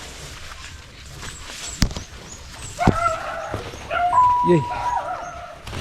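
A dog gives a few short yips and a whimper close by, with people talking around it.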